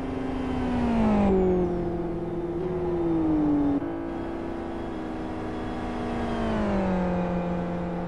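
Race car engines in a racing video game as the cars cross the finish line, a steady droning whine with pitch shifts as the engines rev and change gear, continuous and fairly loud with no voices.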